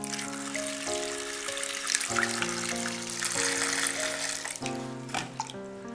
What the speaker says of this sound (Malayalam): ഇനി ഇതിലേക്ക് വെള്ളം ഒഴിച്ചു കൊടുക്കാം.